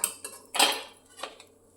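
An omelette lifted onto a plate with metal utensils, a few brief clinks and scrapes of cutlery against a pan and plate, close and sparse.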